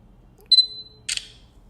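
Camera shutter of a Sony Xperia C5 Ultra phone: a short electronic tone, then about half a second later a crisp simulated shutter click, both close and clear against a quiet room.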